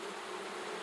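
Honey bees at a hive make a continuous, even buzzing drone that holds steady at a faint level for under a second.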